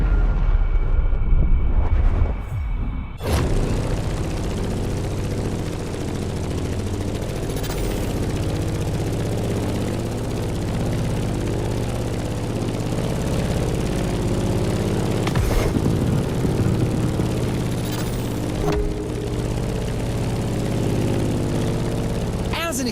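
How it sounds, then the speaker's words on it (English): A Grumman F8F Bearcat propeller plane in the racing game The Crew Motorfest drones with a steady, rumbling engine note throughout, with a few brief sweeping whooshes and shifts in pitch. "In the cockpit of a stunning Grumman F-8F Bearcat"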